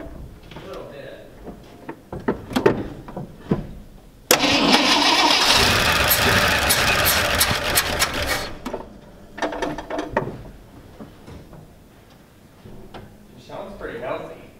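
A 1969 Ford F-250 truck with a carbureted engine cranks with a rapid mechanical churn, then catches and roars loudly for several seconds before settling toward idle. Clicks and clunks come before and after, and people talk around it.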